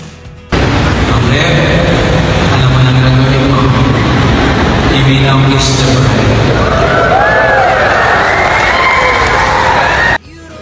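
Wedding guests at Quiapo Church cheer and shout loudly as Angeline Quinto and Nonrev Daquina kiss, a sustained roar of crowd voices with rising squeals and excited shouting that cuts off abruptly.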